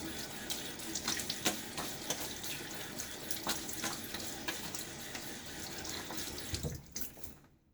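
Tap water runs steadily into a sink for rinsing after a shave, splashing and gurgling close by, then cuts off abruptly near the end.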